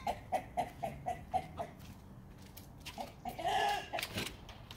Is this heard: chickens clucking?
yes